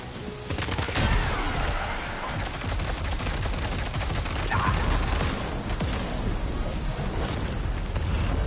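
Rapid bursts of automatic gunfire rattle through a firefight in the video game Death Stranding 2, dense and continuous for the whole stretch, with impacts and booms layered over a loud, busy battle.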